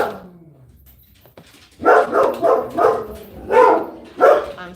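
Two Labrador dogs bark at home, a run of about six loud, sharp barks in quick succession, close by, after a quieter start.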